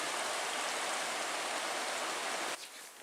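The Big Carp River near Lake Superior flowing steadily, a dense broadband rush of water heard close for most of the clip before it suddenly drops to a softer wash near the end.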